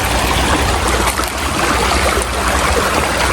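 River water rushes and splashes without a break during a river crossing, a loud, close, broadband wash with no voices heard.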